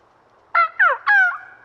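A turkey hunting call imitating turkey clucks and purrs: three short, loud, close yelping notes in quick succession, the last drawn out into a rolling purr, with no other sound around them.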